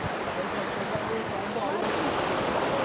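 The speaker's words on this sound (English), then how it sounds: "Now appears to be walking through the middle of the waterfall." Rushing water at Ourika waterfall in the Atlas Mountains near Marrakech, a steady close broadband roar with no break.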